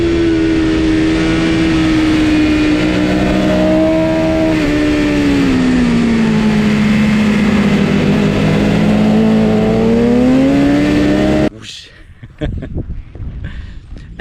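A motorcycle screams around a racetrack, heard onboard through a GoPro Hero 9, its engine holding a loud steady high pitch that dips and climbs through gear changes before cutting abruptly to quieter rumbling wind.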